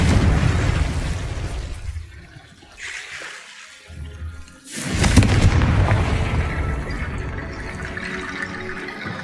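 Confringo explosive spell in Hogwarts Legacy, a sudden blast that bursts in near the middle and then rushes on into a long watery, crackling roar, with no talk.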